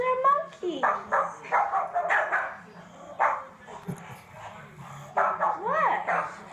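Several dogs, among them an English pug, bark repeatedly at monkeys, with sharp yips and whimpers in irregular bursts at close range, while a person talks over them at times.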